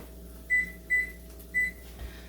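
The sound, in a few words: oven being set and timed for cheese bread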